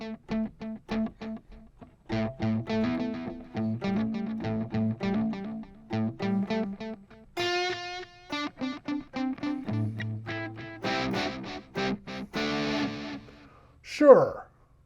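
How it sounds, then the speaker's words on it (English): An electric guitar through a Line 6 Pod Express plays a choppy riff, its notes echoing back through a warm repeating tape delay, ending with a squealing pitch sweep. "Let's set up some delay. I'm going to go with some tape."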